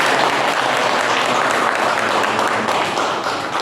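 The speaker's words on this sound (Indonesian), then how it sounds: "Tepuk tangan dulu dong buat" Applause from an audience at a school teachers' dissemination event, a dense, steady wash of many hands clapping close by throughout, with no voices over it.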